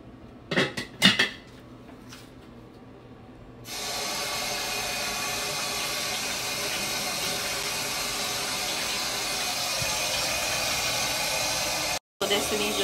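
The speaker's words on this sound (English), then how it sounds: "Washing the lemons." Four cold lemons are washed under a running kitchen tap: a few clinks of dishes first, then a steady, close rush of water that continues to the end with a brief break near the finish.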